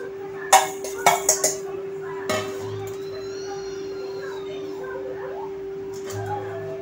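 Sugar is spooned from a bowl into a watermelon drink premix and stirred: a quick run of sharp metallic clinks against the bowl, then a long quiet stretch with faint handling noise.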